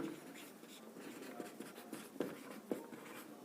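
Pen or chalk writing out a math proof that root two is irrational during a class 10 lesson, soft scratchy strokes with a few sharper taps, quiet and close with a faint voice in the background.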